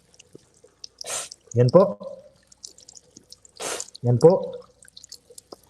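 Water sharply sniffed up into the nose and blown out again during the wudu ablution, with two forceful hissing breaths, each followed by a short spoken phrase.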